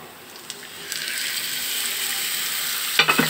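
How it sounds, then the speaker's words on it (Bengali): Marinated loitta fish frying with browned onions in a pan, a rising close sizzle with light stirring scrapes, ending in a few sharp knocks of a utensil on the pan. "এবার আমি মেখে রাখা লইট্টা মাছগুলো দিয়ে"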